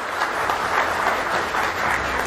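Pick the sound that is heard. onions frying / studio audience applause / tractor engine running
studio audience applause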